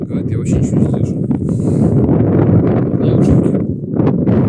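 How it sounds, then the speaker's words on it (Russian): Strong cold wind blowing across an open field, a loud, continuous buffeting roar against the microphone with brief gusty swells and a few faint higher sounds on top. "Короче, что-то очень сильный ветер дует."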